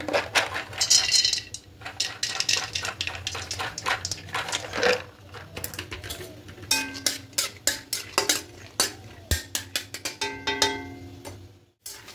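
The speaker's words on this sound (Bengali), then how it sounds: "এবার এই তেলের মধ্যে কিছুটা বাদাম ভেজে নেব।" Peanuts frying in mustard oil in a wok, heard as a quick series of close, bright clinks and rattles from stirring, with a soft sizzle beneath and a few brief pauses.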